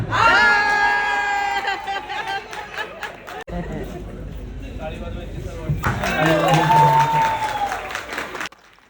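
Guests at a mixed Marathi-Malayali engagement cheer, clap and shout in a loud crowd, with voices mixing into the noise. The cheering dips briefly about halfway through, then swells again.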